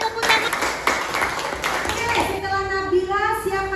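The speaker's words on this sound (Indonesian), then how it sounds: "Oke, tepuk tangan." Primary school pupils in a classroom clap their hands together in a loose, uneven burst, with children's voices chattering and calling out over and after the clapping.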